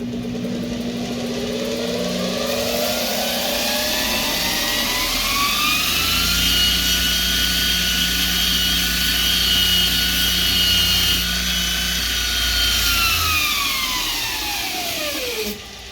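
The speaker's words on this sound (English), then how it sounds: "Now this is a 220 grit metal finishing Trizact belt." Jansen Supply multitool belt grinder running a 220 grit Trizact metal finishing belt against metal: a motor whine climbs in pitch, holds steady and loud for several seconds under a rough sanding hiss, then winds down.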